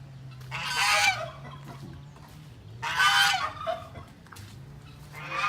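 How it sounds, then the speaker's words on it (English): Wild geese on a farm honk loudly in two separate bursts a couple of seconds apart, with quiet pauses between. "These are our wild geese."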